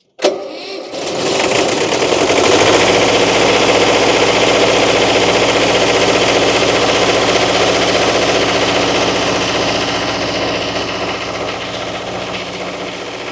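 Engine of a Miller Air Pak 400 welder cranks and fires, then runs loud and steady at a rough, vibrating idle close by, with no talking.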